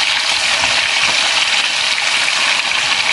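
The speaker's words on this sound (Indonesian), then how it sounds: "kalau misalnya sudah dingin kita akan goreng babatnya" Beef tripe frying in a pan of hot oil, a dense continuous sizzle with scattered pops and crackles, loud and close, with no talking.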